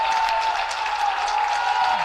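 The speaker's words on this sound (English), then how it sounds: "What a crowd." A crowd at a college baseball championship game applauds and cheers, a continuous wash of clapping with scattered shouts, fairly close and loud across the whole stretch.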